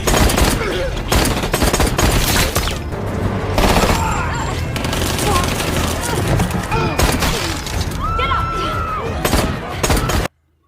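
Heavy gunfire from a sniper shootout in a film action scene: dense overlapping shots and bursts with booms and crashes, loud and continuous until an abrupt cut to silence at the end.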